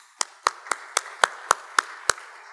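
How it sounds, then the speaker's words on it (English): A single person claps slowly at a tech talk for a community member, eight sharp, evenly spaced claps standing alone in a quiet room. "can we give Mark a round of applause?"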